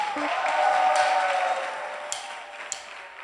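Outdoor concert audience at a French summer music show claps and cheers to welcome a singer onto the stage, a fairly loud wash that gradually fades, with a couple of sharp cries near the end.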